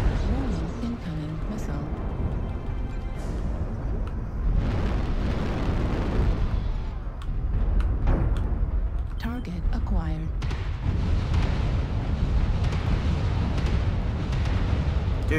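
Missile volleys explode and burst in a MechWarrior Online battle on Terra Therma, dense overlapping blasts and booms rolling on steadily under game audio and a talking voice.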